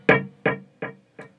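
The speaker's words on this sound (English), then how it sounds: "And then I also have a dotted eighth note delay on" An electric guitar with medium overdrive plays one struck note that repeats through a dotted eighth note delay, with four echoes fading steadily in volume.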